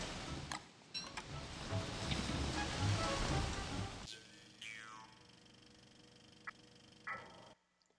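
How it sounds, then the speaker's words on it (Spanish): In the caves of the game Don't Starve Pocket Edition, a soft, steady rain hiss fills the first four seconds, then drops away to a quieter ambience with a few light tones and clicks. "Aquí también está lloviendo, es primavera aquí en las cuevas."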